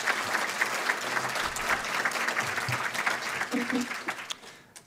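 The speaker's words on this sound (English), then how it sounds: "Give them a round of applause for having the guts" A TV studio audience applauds people just arrived from the airport, a steady roar of clapping through the clip that fades toward the end, with faint voices underneath.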